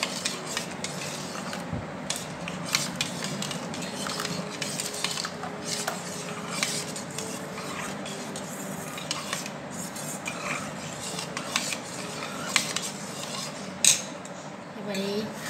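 Green mango ice cream mixture being spooned into cups, with a steady run of light clinks and scrapes of a spoon against bowls and cups, close and fairly quiet, plus one sharper knock near the end.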